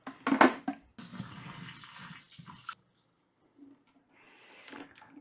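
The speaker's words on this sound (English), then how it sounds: "I got to empty out the dirty water" Dirty, slushy water pours from a Tineco Carpet ONE Cruiser carpet cleaner's tank into a sink, with splashing bursts, a long steady stream, a pause, then a softer trickle.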